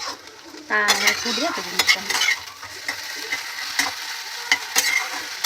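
Food sizzles steadily in a pan while a utensil scrapes and clinks against it several times, close up and without speech.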